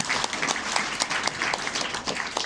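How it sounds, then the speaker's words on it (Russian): Audience applause at a hackathon event, steady dense clapping from a crowd filling the whole moment with no talk over it. "Аплодисменты."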